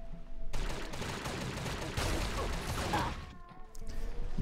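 Goo rifle fire in the mobile shooter Pixel Gun 3D, a dense run of rapid gunfire bursts with a brief lull, then more shots, mechanical clicks and creaks mixed in.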